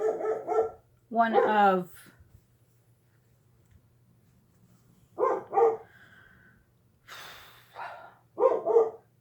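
Indoors, a dog barks in several short clustered bursts, close and fairly loud, with brief quiet gaps between them. Someone speaks a couple of words near the start, and a steady low hum runs underneath.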